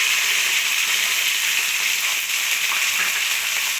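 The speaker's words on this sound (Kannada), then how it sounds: "ಸ್ವಲ್ಪ ಸಾಸಿವೆ ಹಾಕೊತಾ ಇದ್ದೀನಿ, ಕರಿಬೇವು ಹಾಕೊತಾ ಇದ್ದೀನಿ, ಹಸಿಮೆಣಸಿನ್ಕಾಯಿ ಹಾಕೊತಾ ಇದ್ದೀನಿ" Mustard seeds, curry leaves and green chillies frying in hot oil make a continuous bright crackling sizzle, close and steady for a few seconds with no voices.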